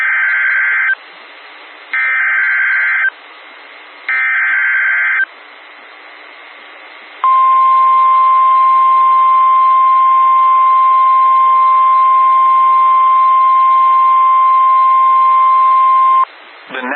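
A NOAA Weather Radio emergency alert plays loud, with several short bursts of buzzy data tones followed by a long, steady warning alarm tone lasting about nine seconds before cutting off.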